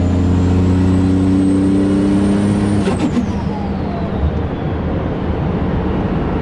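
A 2003 Cummins 5.9 diesel pickup with a 70mm Garrett turbo pulls at half throttle: a loud, steady engine drone carries a high turbo whistle that drops away sharply midway, leaving the rumble to continue alone.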